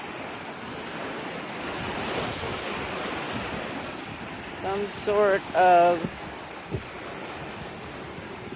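Surf washing steadily onto the beach at Corito Bay, a continuous rushing wash mixed with wind noise, with someone speaking briefly near the end.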